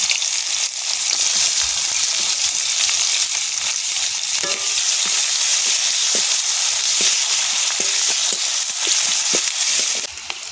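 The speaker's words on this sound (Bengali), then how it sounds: "পেঁয়াজটা হালকা ভাজা হয়ে গেছে" Onions fry in oil in a pan, a loud, continuous close-up sizzle that stays dense and even throughout, with faint occasional stirring clicks.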